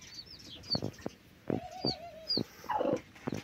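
A brooding hen at her nest gives a series of short, close clucks with a few higher chirps from chicks, spaced irregularly over a quiet barnyard background.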